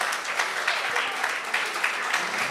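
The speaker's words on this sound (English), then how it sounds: "so you have to give yourself a round of applause for that" An audience of secondary school students and guests gives a steady round of applause for well-written essays at a prize giving, the dense clapping holding at an even, moderate level throughout.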